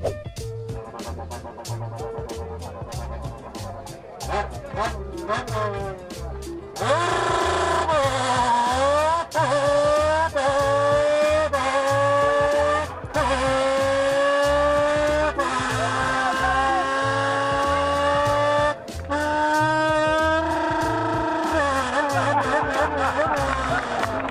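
A voice imitates a rally car engine on a circuit using a beer can, rising and falling through gear changes in sweeping whines over a steady rhythmic backing beat.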